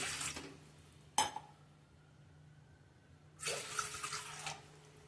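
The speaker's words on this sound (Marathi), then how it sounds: "आता 3 कप बघा मी इथं पाणी घालते" A short clatter, then a burst of running water splashing into a vessel for about a second, in an otherwise quiet kitchen.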